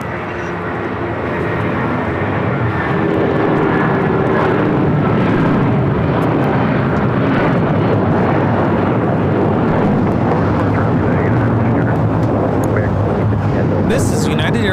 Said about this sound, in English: This is United Airlines 1400 taking off to Chicago O'Hare on the 757-300.